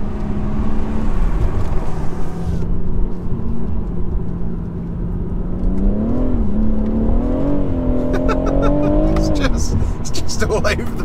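A stock BMW M2 engine while driving, droning steadily up close, then rising and falling in pitch as it revs, with scrappy tire noise near the end.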